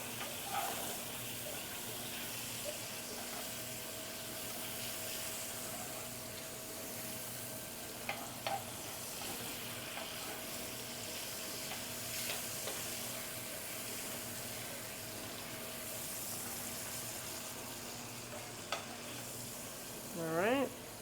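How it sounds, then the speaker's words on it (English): Food searing in a hot pan at a home holiday cooking session, giving a steady quiet hiss and sizzle with occasional clicks and utensil taps near the end. "There's a very good sear on that side."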